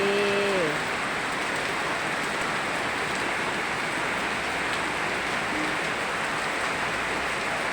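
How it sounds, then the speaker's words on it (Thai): Steady rain pours down in a dense, even hiss, with a brief faint voice-like tone at the very start. "ฝนตกพี่น้องเอ้ยไปใสบ่ได้"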